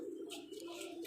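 A soft, low pigeon coo sounds briefly up close, a short throaty warble.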